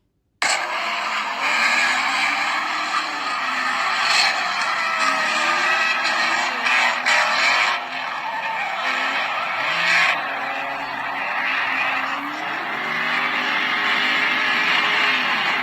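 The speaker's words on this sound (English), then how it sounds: "You got a G-body and an S chassis drifting side by side" A G-body and an S-chassis car drift side by side, tires screeching in a long continuous squeal over revving engines, loud and close with pitch sweeps as the throttle rises and falls.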